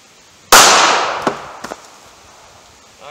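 A single sharp .380 ACP pistol shot fired into a wooden 2x4 bursts out loud and close, its crack decaying over about a second, followed by a couple of faint knocks and clatters.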